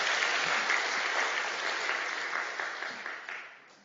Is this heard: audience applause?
yes